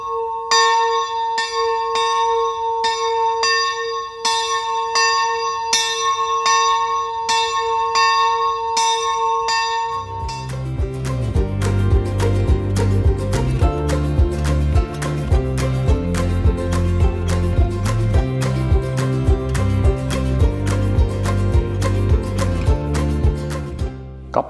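A new church bell installed in 2019 rings at the Křížová hora pilgrimage site near Český Krumlov, first a lighter ringing, then deep resonant tolls in a steady rhythm that fill the air, loud and alone.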